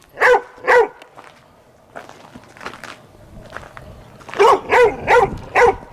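A dog barks in short bursts at a cabin in Mojave, California, left behind: two sharp barks, a quieter stretch of scattered noise, then four loud barks in quick succession, close by.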